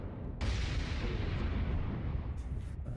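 Heavy incoming fire booms in MechWarrior Living Legends, a sudden loud blast opening into a sustained rumbling roar of distant enemy weapons, with a couple of sharper pops near the end.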